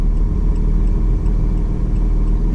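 Lotus Exige Sport 380 running on the road, a loud, steady low engine drone from inside the car with continuous road rumble and no talking.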